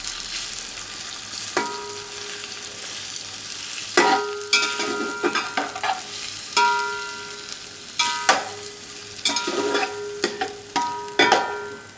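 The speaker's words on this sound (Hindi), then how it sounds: "अब हमने जो चिकन रखा था छोटी छोटी बोटियां करके ये इसमें डाल देंगे। और चिकन को फ्राई कर लेंगे।" Small boneless chicken pieces frying in hot cooking oil over a medium-high flame, a steady close sizzle broken by repeated scraping and clanking as the pan is stirred every second or two, with no talking.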